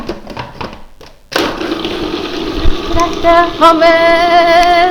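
A food processor blitzes hummus from three ingredients, its motor starting abruptly into a loud, steady whir with a rising whine that holds to the end.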